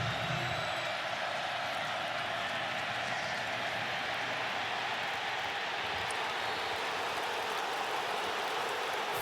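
A stadium crowd of about 89,000 at a Nebraska football game against Wisconsin boos at the referees, a loud, sustained roar of boos filling the air without a break.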